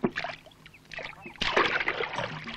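Paddle strokes on water as a wooden rowboat moves, with soft splashes and drips in an irregular rhythm that swells louder and busier in the second half, close by and with no talk.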